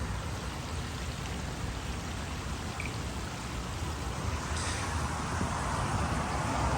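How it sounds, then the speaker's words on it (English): Falling water from an outdoor waterfall fountain at a building's front entrance, a steady, dense rush and splash that runs unbroken and fairly loud throughout, with no talking. "check out this waterfall as you walk to the front door"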